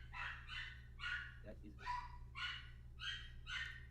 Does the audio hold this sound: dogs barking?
yes